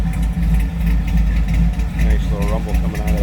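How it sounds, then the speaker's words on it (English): A 1953 Chevrolet 3100 pickup street rod rumbles at idle through its side exhaust, a loud, steady low engine note with a voice talking over it. "Nice little rumble coming out of that side exhaust."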